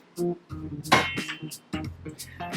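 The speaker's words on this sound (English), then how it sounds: "Swap the pans over because that doesn't work in induction." Metal pans clank and clink as they are swapped over on an induction hob in a kitchen, a few sharp close knocks and scrapes at a steady loud level with a voice faintly in the background.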